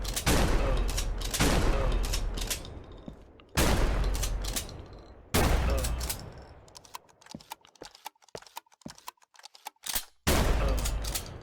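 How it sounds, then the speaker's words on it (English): Video game gunfire rips through zombies in several loud, rapid bursts with short pauses between, the later volleys thinner and more scattered. "Now this gives you a bunch of zombies here to shoot."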